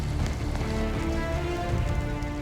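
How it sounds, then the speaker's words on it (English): Violent storm on a mountain pounding down rain and golf-ball-sized hail on cyclists caught in the open, a dense, steady drumming of drops and stones striking surfaces with no voices heard. "Hailstorm coming through, hail the size of golf balls"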